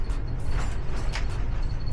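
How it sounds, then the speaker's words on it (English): Intermittent squeaks and creaks from inside an RV recur every fraction of a second over a steady low rumble, moderately loud and close. "Trying to figure out where that squeak's coming from."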